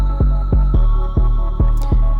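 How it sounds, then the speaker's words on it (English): An electric shaver runs against the grain on a client's scalp during a haircut, a loud, close buzzing hum pulsing in an even rhythm of roughly four beats per second. "notice how I'm using the shaver, but I'm going with the grain"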